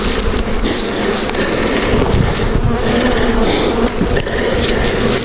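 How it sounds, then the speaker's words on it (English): Honeybees buzz at the mid-entrance of a straw skep, a loud, close, continuous drone of many wings with individual bees whining past, no talk. "this has got a mid-entrance where the bees will want to get in there as quick as they can"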